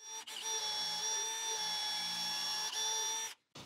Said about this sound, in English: I'm going to mask up the drill bit with a piece of masking tape so that I know I'm drilling to the correct depth